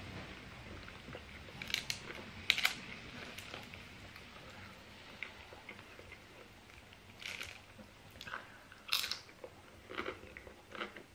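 Crunchy nachos topped with cooked meat are bitten and chewed at close range, a few sharp crisp crunches spaced out over quiet background, no talking.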